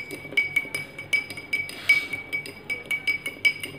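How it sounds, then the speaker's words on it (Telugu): A spoon clinks rhythmically against the sides of a glass while salt is stirred into water until it dissolves, a quick series of bright, close taps repeating steadily. "వేసి కలపండి చక్కగా. ఉప్పు మొత్తం కరిగే వరకు కలపండి."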